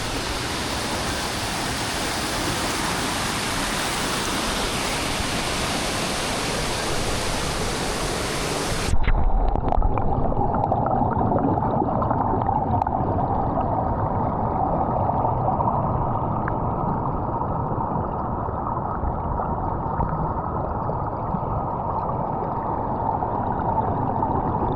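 Tagbibinta Falls, a waterfall at a mountain resort in Maragusan, Davao de Oro, sends up a loud, constant rush of falling water. Partway through the sound turns more muffled and lower, staying steady with no voices.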